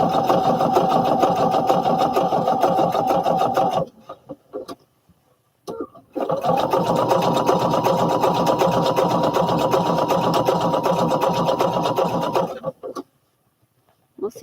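A sewing machine stitches overalls in fast, even bursts of rattling mechanical chatter, stopping briefly twice between runs.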